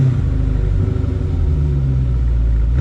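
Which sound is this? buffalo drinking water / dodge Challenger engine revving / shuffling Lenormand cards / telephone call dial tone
dodge Challenger engine revving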